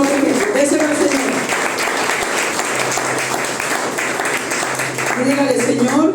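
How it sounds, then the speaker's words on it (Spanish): Church congregation applauding in a sustained, dense burst, with raised voices and cheers mixed into the clapping at the start and again near the end. "Dele un aplauso al Señor y vamos con otro ejemplo."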